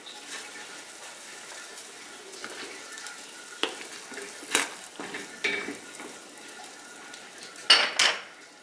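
A seasoning packet and soup pasta go into a pot for a quick chicken soup, with soft rustling, light clatter and a few sharper taps against the pot over a low background hiss.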